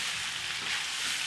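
Pork ribs with garam masala, cumin, chili powder and mixed herbs sizzle and fry in a pot, a dense continuous hiss with faint stirring scrapes, close and steady.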